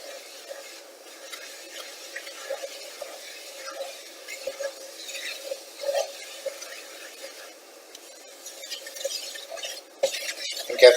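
A spoon stirring flour in a pan on the stove to cook off the raw taste, giving soft scraping and clinking strokes in an uneven rhythm at low volume, with faint kitchen clatter toward the end.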